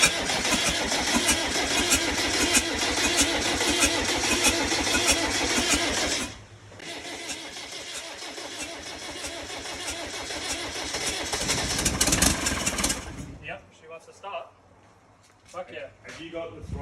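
A Range Rover Classic engine cranks and fires for the first time in over a year, running loudly with rough, dense cranking and idling before dropping to a lower idle, then a quieter stretch as people talk nearby.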